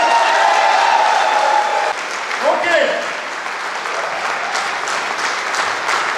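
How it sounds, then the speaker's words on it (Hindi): An audience at a stage performance event claps loudly for several seconds, a dense wash of applause with crowd noise and some talk mixed in, easing slightly partway through. "तो आप लोग कम से कम जोरदार ताली तो बजाइए।"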